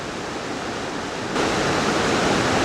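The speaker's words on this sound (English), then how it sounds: "here you see the waterfall is coming down from two completely different sources" Waterfall near Helen, Georgia, fed by two separate sources, roaring as a steady, loud broadband rush of falling water that swells noticeably louder partway through, with no voices.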